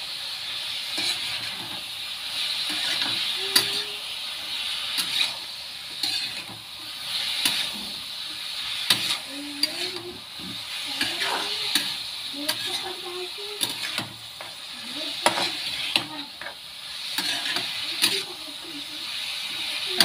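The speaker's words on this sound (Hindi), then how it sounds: "इसी के साथ में हम डाल देंगे ये मटर, गाजर मटर की है सब्जी दोस्तों" Peas and carrots stirred into a hot pan for gajar matar sabzi, a steady sizzle and hiss with scraping stir strokes throughout, with a voice talking over it.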